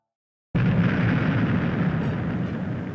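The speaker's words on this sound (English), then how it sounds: "The next day, there's another massive explosion." A massive explosion in the Danganronpa video game bursts in suddenly after a brief silence, a loud, dense roar that holds and slowly thins out over a couple of seconds.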